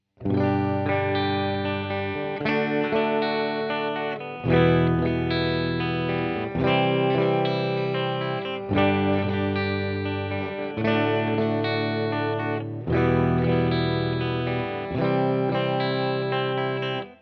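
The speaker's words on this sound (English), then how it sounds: "now I'm going to add a little bit of reverb and move to the middle position" Electric guitar playing sustained chords with reverb on the middle pickup position, sent through an Xvive U2 wireless system, steady and fairly loud, with a spacious reverb tail as each strum rings into the next.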